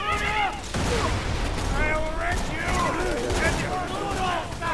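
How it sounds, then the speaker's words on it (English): Gunfire rattles in the video game Borderlands 2 as an enemy is shot, with dense, continuous bursts and booms. Loud game effects blend with voices talking over them throughout. "Let's shoot this guy in the head."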